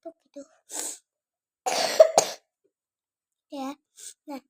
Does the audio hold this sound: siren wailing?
no